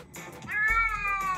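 A fat cat lets out a single drawn-out meow, rising then holding close and clear, preceded by brief faint rustling.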